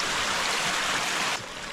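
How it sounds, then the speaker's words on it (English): Hot spring water gushing and trickling into a freshly dug hole at a volcanic spring, a close, steady watery rush that drops slightly in level near the end. "It's filling up with hot water pretty quick."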